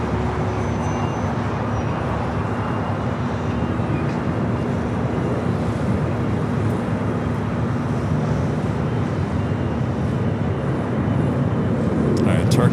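A United Boeing 767-300ER heavy takes off from LAX with a loud, steady jet roar and low engine hum that swells slightly toward the end, with a low tone running underneath.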